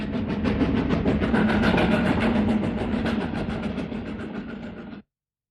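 A train runs steadily along the track, a dense continuous rumble with rhythmic clatter that holds loud for about five seconds before cutting off abruptly.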